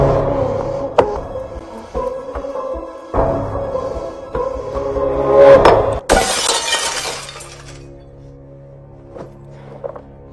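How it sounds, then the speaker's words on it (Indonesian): Window glass is smashed with brought tools: a few dull knocks and thuds lead up to a loud, sudden shatter, then a brief spray of breaking shards that quickly fades into quiet. "membawa alat dan bahan untuk memecahkan kaca jendela"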